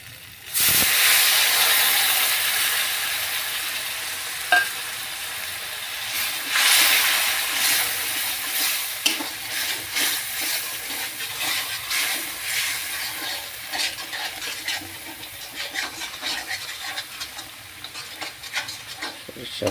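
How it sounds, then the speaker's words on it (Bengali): Mustard paste and ground spices such as turmeric and coriander fry and get stirred in a hot pan for a fish curry, giving a loud, steady sizzle and hiss with scraping stirs through the whole stretch. "সরিষা বাটাটা দিয়ে এবার ভালো করে কষিয়ে নিব"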